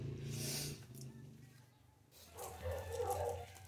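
Dogs bark and whimper nearby outdoors, a few short yips and woofs spread across a few seconds, fairly faint with some background noise.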